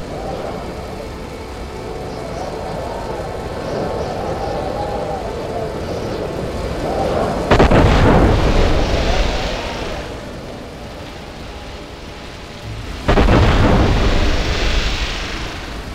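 Warship blowing up in the Silent Hunter 5 submarine game: a rolling rumble building into two heavy, loud explosion blasts several seconds apart, each fading into a long roar.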